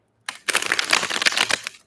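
Tarot cards being shuffled, one quick, crisp riffle of rapid fluttering clicks lasting about a second and a half, close and alone.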